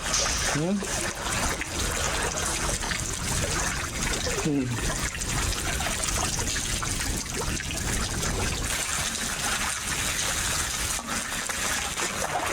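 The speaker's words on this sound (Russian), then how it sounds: "Времени нет, вода поднимается." In a film scene, water trickles and gushes steadily through a dense, noisy mix that fills the whole clip, with brief voices and clanks underneath.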